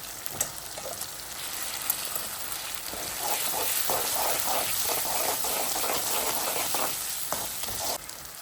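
Half a spoonful of ginger-garlic paste hits oil with softened tomatoes for Maharashtrian misal, sputtering into a steady, close sizzle that swells after a few seconds, with occasional pops and a stirring scrape.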